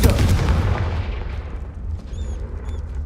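Confringo fire spell blast in the video game Hogwarts Legacy: a loud booming explosion that hits at once and rumbles away over a few seconds, followed by faint chiming tones.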